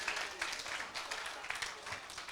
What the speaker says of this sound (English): Quick round of applause for the car.